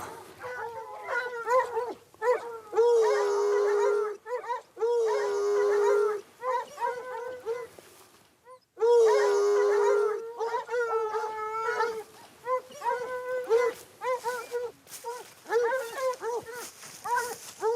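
Hunting dogs bay and howl in drawn-out, overlapping cries while following a wild hare's overnight trail in the mountains, loud and close, with short pauses between bursts and a man calling to the pack.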